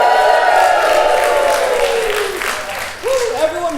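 Audience applause and cheering at a one-man comedy show, loud sustained clapping from a crowd that gradually tapers off as a voice starts talking.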